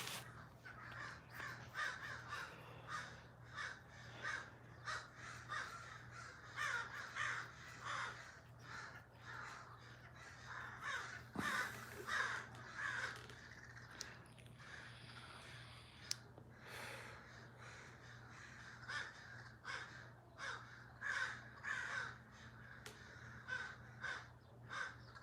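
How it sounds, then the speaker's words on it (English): Crows caw again and again across a long stretch, harsh calls repeating at close to middle distance over a steady low hum, with no voices. "These crows, dude."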